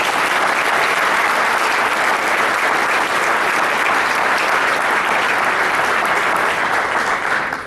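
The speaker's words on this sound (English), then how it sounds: "One more round of applause for all the players" Sustained, loud applause from a crowd at a high school football banquet honoring the team's players, a dense even roar of clapping that holds steady before tapering at the end.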